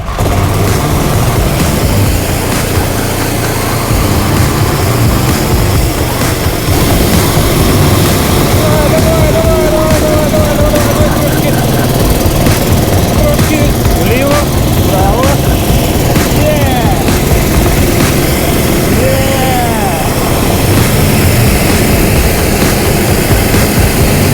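A car engine runs steadily at a loud, constant drone, its exhaust being used to inflate the tyres, with occasional low voices over the rumble.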